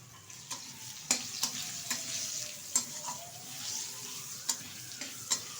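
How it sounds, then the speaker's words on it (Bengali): Potato pieces fry with turmeric powder in a pan, a soft steady sizzle punctuated by repeated sharp spatula scrapes and taps at irregular intervals. "আলুটা একটু ভালোভাবে ভেজে নেব। দিয়ে দিচ্ছি 1 চামচ হলুদ গুঁড়ো"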